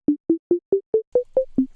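Synthesized tones from SuperCollider step up a major scale, eight short evenly spaced notes rising in pitch, clean and loud with no other sound.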